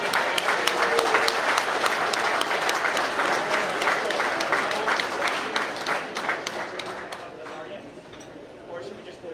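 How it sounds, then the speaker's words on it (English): A room full of people applauding at an Honor Flight Kern County recognition and awards event, brisk continuous clapping that slowly thins out, with some voices mixed in. "We have a round of applause for Matt."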